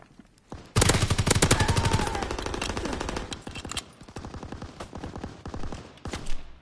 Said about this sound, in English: What is it? SMG?